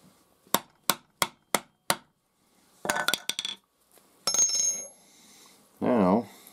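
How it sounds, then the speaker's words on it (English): A 9/16 inch drive punch is struck by a hammer five times in quick, evenly spaced, sharp metallic blows to punch a hole while making a rattlesnake hat band, followed by softer clinks and handling noises. "And punch a hole."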